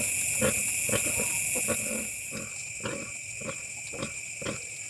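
Pigs on a farm grunt in a string of short, evenly spaced snorts, moderately close, over a steady background hum of insects or machinery.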